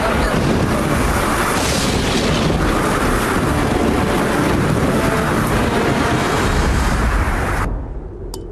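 Strong wind roars continuously with rushing, crashing water like storm waves, loud and unbroken, then cuts off abruptly near the end.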